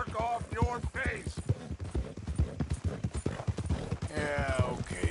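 A horse in the video game Red Dead Redemption 2 clip-clops along in a steady rhythm of close, distinct hoofbeats, with voices talking over it.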